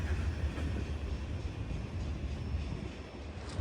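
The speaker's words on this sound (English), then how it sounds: "watching a large freight train roll on by" A large freight train rolling past in Greenville, South Carolina, a steady loud low rumble and rolling roar that holds at the same level throughout, with no voices.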